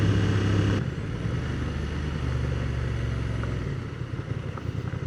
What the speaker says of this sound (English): That's a sweet KLR.